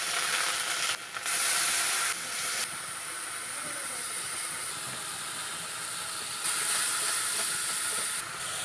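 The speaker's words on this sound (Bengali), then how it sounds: "এই পটল ভাজার তেলের মধ্যে কিন্তু পেঁয়াজ দিয়ে দেবো" Onions and spices fry in oil left over from frying pointed gourd, a steady steamy hiss with surges in loudness, in a village kitchen on a rainy day.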